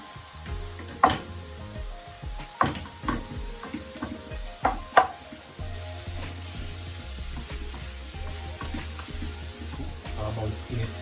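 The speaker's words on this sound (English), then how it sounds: "Now I'm going to add my mince in." Beef mince sizzles softly in a pan, with several sharp scrapes and knocks of stirring in the first half and a steadier frying hiss afterward, fairly quiet and close.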